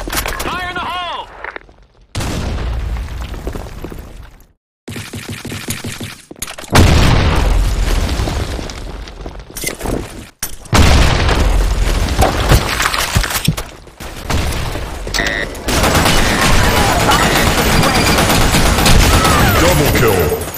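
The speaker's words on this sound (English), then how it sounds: "Grenade. Fire in the hole." Grenade blasts and bursts of gunfire in a multiplayer shooter game, several loud booming explosions and rattling fusillades separated by short silent gaps, close and harsh, with players calling out over the action.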